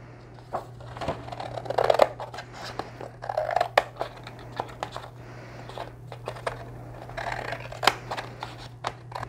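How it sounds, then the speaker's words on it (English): Scissors snip through cardstock in a quiet room, a series of crisp irregular cutting clicks and crunches close by, with no talking. "with my scissors"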